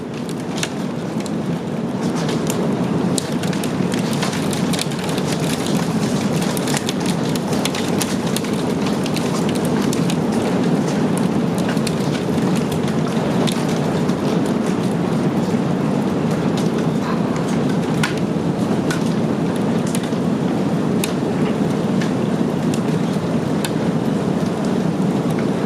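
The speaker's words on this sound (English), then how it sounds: "but that's definitely hail" Heavy rain and hail in a severe thunderstorm, a loud dense continuous roar with scattered sharp ticks and crackles of stones hitting, steady from start to finish, no talk.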